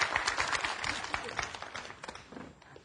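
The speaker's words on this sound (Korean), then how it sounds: "아무튼 박수 한번 보여주시죠" A studio audience at a talk show gives a quiet, scattered round of hand clapping that swells briefly and then tapers off.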